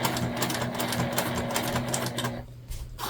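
A sewing machine stitches around a corner of a canvas sling bag, running in a fast, steady mechanical chatter with a constant hum beneath, then stopping abruptly near the end.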